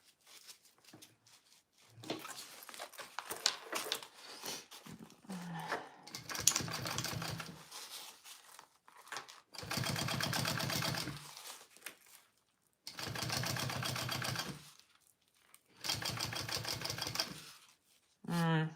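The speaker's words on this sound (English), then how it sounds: "now I'm going to top stitch along this and then I will baste it all together" A sewing machine runs top stitching in several separate bursts of a few seconds each, close and fairly quiet, with a person talking between the runs.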